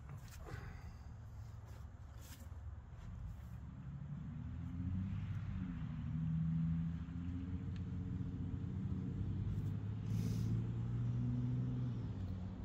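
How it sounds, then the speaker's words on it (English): An Amazon delivery truck driving past on a nearby road, a low engine rumble that swells gradually and holds steady, with a few faint clicks and knocks over it. "There goes the Amazon truck."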